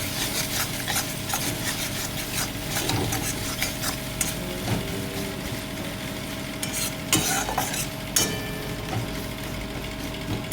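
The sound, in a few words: onions and spices sautéing in a pan for egg tarka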